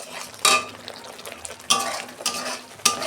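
Spice masala of ground chilli, cumin and coriander being stirred and fried in a pan for a fish curry, with three sharp scraping strokes of a utensil over a soft continuous sizzle, close and moderately loud.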